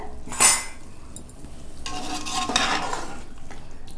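A spoon stirs gongura chicken curry in a cooking pot, giving a sharp scrape near the start and then a longer run of scraping and clinking against the pot.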